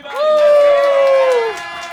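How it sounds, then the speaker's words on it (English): A comedy club audience at a roast battle claps and cheers loudly, a sustained whoop riding over the crowd noise before it settles. "Clap it up, everybody."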